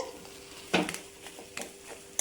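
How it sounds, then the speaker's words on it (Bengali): A spoon stirs a potato vegetable-chop filling in a pan, giving a few scattered scraping knocks against the metal over a faint low sizzle, close and quiet. "আরও কিছুক্ষণ নাড়াচাড়া করে নিতে হবে"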